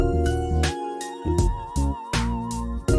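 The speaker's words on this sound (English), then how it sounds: "It's a synth lead, but it almost kind of sounds like a theremin." A synth lead with a theremin-like tone plays a wavering melody that bends between pitches. It sits over a dense, loud music mix with pulsing bass and drum hits.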